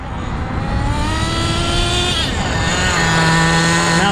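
An HPI WR8 nitro RC rally car engine revs high and buzzy close by, the pitch rising and falling as the throttle opens and eases off for about four seconds.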